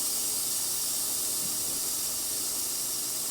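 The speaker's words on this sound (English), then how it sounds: "Usually you want to keep that steam wand open just to run some of the water out and some of the steam out." A Lelit Victoria espresso machine's steam wand vents with a loud, continuous close-up hiss, steady and unbroken, with no talking.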